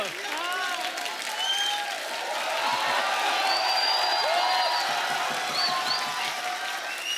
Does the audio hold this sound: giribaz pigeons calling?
no